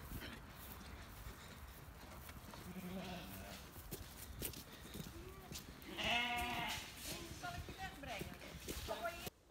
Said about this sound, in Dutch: Schapen drijven.